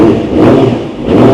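A big bike motorcycle engine revs loudly during a sound check, rising and dipping in a brief, close roar with no other sound over it.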